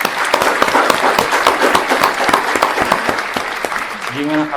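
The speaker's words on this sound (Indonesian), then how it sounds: "Tepuk tangan dulu." A television studio audience breaks into dense, steady applause, many hands clapping loudly for several seconds before a voice begins speaking as it tapers.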